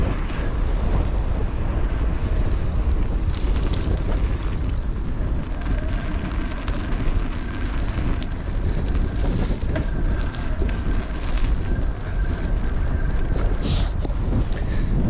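Strong wind buffets the microphone on a riverside off-road trail during an e-bike ride, a constant loud rumbling roar with no voices throughout.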